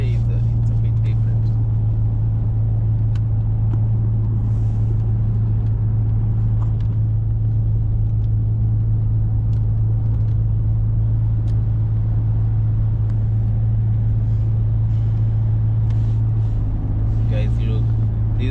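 Steady low engine rumble and road drone from inside a moving car, continuous and fairly loud, with a few faint clicks and shifts over the top.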